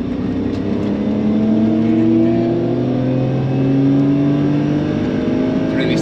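A BMW E34 M5 Touring's engine revs hard on the Nürburgring, a loud steady in-car drone climbing smoothly in pitch as the car pulls through the gears, with no talk over it.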